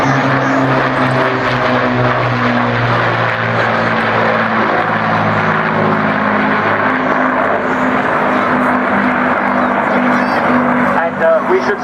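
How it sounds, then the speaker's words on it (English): Two Avro Lancaster four-engine WWII bombers, one RAF and one Canadian, fly overhead at the Clacton Air Show with a loud, steady propeller drone and deep throbbing engine harmonics, and a voice comments over the noise. "it's the RAF's Lancaster that's leading, and the Canadian Lancaster is second"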